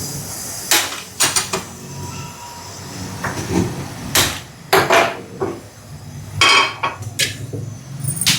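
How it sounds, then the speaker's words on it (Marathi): A metal appam pan is set down on a stove in a home kitchen. There are several sharp, loud clanks and scrapes of metal, spaced irregularly over a low hum. No one talks. "आता मी जरा अप्प्याचं भांडं थोडं गरम करायला ठेवते"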